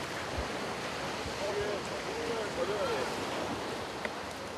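Ocean waves heave and wash around a small fishing boat at sea, a constant rushing surf with wind noise buffeting the microphone.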